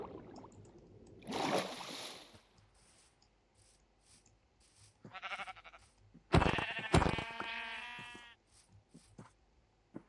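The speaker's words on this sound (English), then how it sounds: "Sheep." Several sheep bleats from the blocky video game Minecraft, a couple of short calls followed by a louder, drawn-out bleat, heard fairly close over a quiet ambient background with a brief rustle early on.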